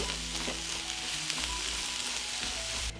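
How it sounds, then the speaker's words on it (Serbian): Onion and pepper fry in fat in a pan, giving a steady, even sizzle close at hand with faint stirring clicks and no voices. "Na istu masnoću spuštam luk, dodajem i papriku i pržit ću dok ne omekša."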